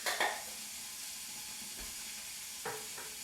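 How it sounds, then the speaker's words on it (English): Meat browns in a pot on the stove, giving a soft, steady sizzle with a couple of brief clinks of utensil against the pot. "My meat is cooking now, you can see."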